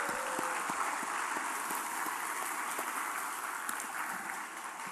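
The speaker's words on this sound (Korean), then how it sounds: "다시 한번 더 우리 수고한 우리 어린이들 또 우리 감사의 영광의 박수를 한번 했으면 좋겠습니다." A church congregation applauds the children in a sustained, even wash of clapping that holds steady throughout, thinning slightly at the very end.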